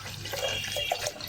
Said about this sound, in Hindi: एक गिलास पानी डाल के